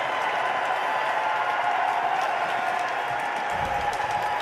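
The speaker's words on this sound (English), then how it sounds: "And they're all cheering." A full church congregation cheering and applauding during a mass, a steady crowd roar of clapping and voices that holds for several seconds.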